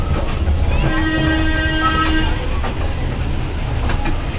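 A toy train ride at an amusement park rumbles past up close, loud with a sustained tonal horn-like whistle in the middle and steady clattering motion underneath.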